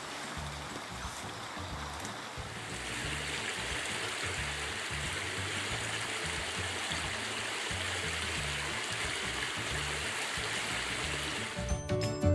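A local stream flowing steadily, a continuous close rush and burble of water filling the whole clip with no voices.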